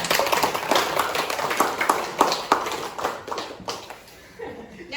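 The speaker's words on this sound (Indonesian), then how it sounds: "Terlebih dahulu kita kasih aplaus." Classroom of students applauding a student group, with uneven clapping that thins out over a few seconds and fades to a few last claps.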